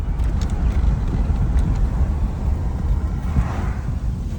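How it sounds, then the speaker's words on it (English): A 2016 Ford Fusion's 2.5 engine idles roughly with a faulty throttle body, making a steady, close, low rumbling drone that wavers unevenly throughout. "So it is idling really, really rough, and there's no input."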